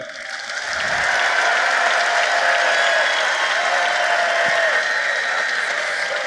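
An audience at a company party breaks into sustained applause, a dense wash of clapping that swells quickly and holds steady for several seconds, loud and close.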